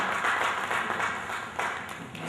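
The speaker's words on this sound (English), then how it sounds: "an applause for them" Applause from a formal gathering acknowledging Ministry of Justice representatives: a steady wash of many hands clapping at moderate distance, continuous throughout with no talk over it.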